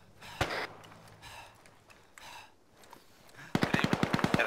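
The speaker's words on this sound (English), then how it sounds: "That's them shooting." Gunfire in the military shooter game Arma 3 during a team match: an isolated shot early, then a rapid burst of automatic fire near the end, with players talking over radio.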